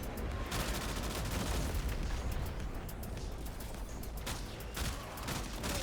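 Rapid, sustained automatic gunfire rattles during Warframe combat, a dense, faint stream of shots with slight surges throughout and no pauses.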